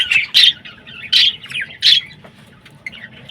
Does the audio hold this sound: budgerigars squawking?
yes